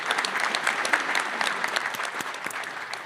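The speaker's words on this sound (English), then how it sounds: "it starts with a round of applause for our special guests" An audience at an industry leaders panel at MWC 2025 applauds the panel guests with dense, sustained clapping at a steady moderate level throughout, with no speech over it.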